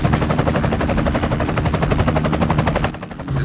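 A helicopter lifts off for an aerial tour over Southern California, its rotor chopping loud and close in a fast, even rhythm that eases slightly near the end.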